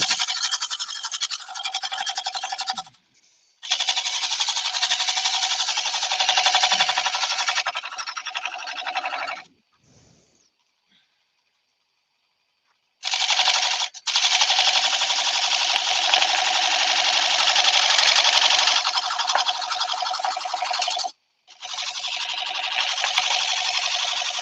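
Wood lathe turning a winged bowl with a tool taking thin, light shavings: a loud, steady high whirring hiss in long sustained passes, broken by brief pauses and one longer stop midway.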